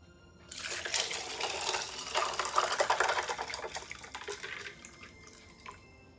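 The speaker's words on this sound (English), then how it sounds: "Going to gently pour the tea." Sweet cranberry tea pours into a mason jar packed with ice, a steady splashing, trickling stream with crackling ice that starts abruptly, runs for several seconds close up, then tapers off quietly.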